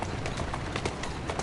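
Clip-clop of horse hooves in the Assassin's Creed Syndicate video game, a quick regular series of close, distinct hoof strikes over a brief stretch.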